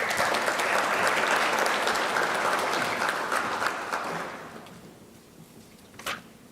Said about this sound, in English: Let's give Nate another round of applause